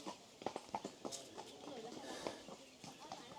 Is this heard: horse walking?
yes